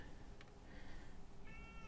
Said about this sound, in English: I'm very sorry about my cat.